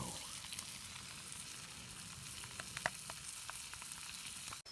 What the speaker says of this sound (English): Bacon grill.